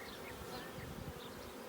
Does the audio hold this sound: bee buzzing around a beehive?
yes